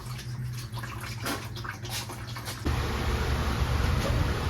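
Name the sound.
water flushing out of a 1966 car's radiator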